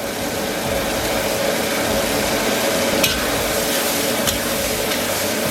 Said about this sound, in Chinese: 咱们给里边来2勺辣椒酱，来点豆瓣酱，然后给它炒出红油